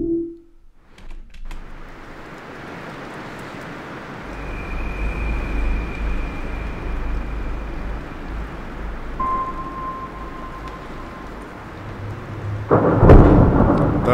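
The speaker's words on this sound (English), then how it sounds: "Thunderclap right there." A deep, rumbling thunderclap rolls out over steady ambient wind, swelling loud near the end with a sharp crack.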